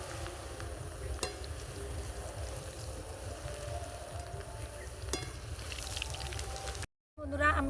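Handfuls of potato chips fry in hot oil with a dense, continuous bubbling sizzle, close and even, broken by a couple of faint clinks before a brief cut near the end.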